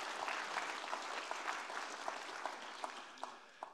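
An audience claps steadily at a conference presentation on software updates, a dense, moderately faint round of applause lasting nearly four seconds, with a few sharper individual claps standing out near the end.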